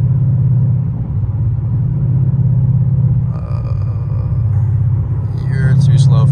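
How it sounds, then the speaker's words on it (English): Steady deep rumble of a Mustang GT engine cruising in traffic, heard from inside the cabin, with a slight swell near the end and some faint higher sounds over it. "if y'all are wondering what it's like to drive a Mustang GT"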